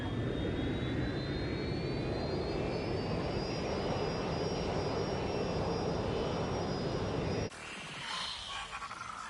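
A plane flies in the video game Watch Dogs Legion, a loud, steady jet roar with a rising engine whine that holds for several seconds before cutting abruptly to a quieter, muffled rumble.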